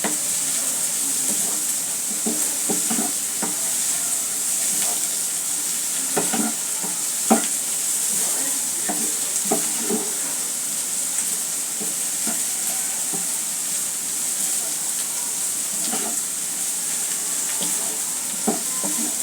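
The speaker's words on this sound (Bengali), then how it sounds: "যেহেতু এটা কচুর শাক, এটা কাঁচা পেঁয়াজ মরিচের দরকার হবে না, তাহলে ভালো করে তেলে ভেজে দিলেই বেটার হবে।" Taro leaves frying in oil in a pan hiss with a constant close sizzle, broken by frequent scraping and tapping from stirring at an irregular pace, with no talking.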